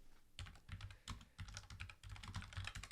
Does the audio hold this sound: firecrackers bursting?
no